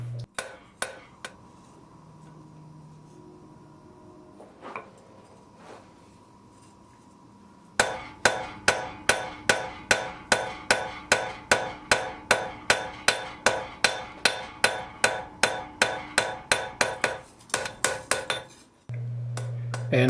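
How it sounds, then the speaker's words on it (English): Hot iron for a chest hinge rings under a rapid, steady series of cross-peen hammer blows on an anvil, each strike bright and clanging, after a few scattered taps at the start. "I'm using the anvil to cross-peen the extra material lengthwise into"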